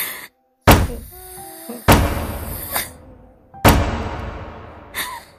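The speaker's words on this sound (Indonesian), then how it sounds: "Suara tangisnya yang diiringi dengan suara pukulan yang dipukulkan ke pintu kamarnya." A bedroom door is banged on in a sound effect: four or five loud, separate thuds with short decays, in an uneven rhythm and heard alone.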